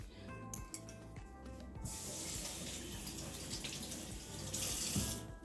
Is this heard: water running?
yes